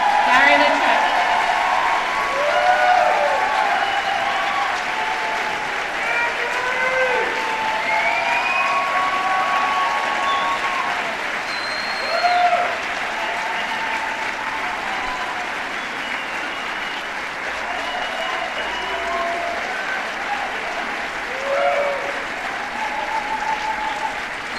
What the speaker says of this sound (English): they just missed a great applause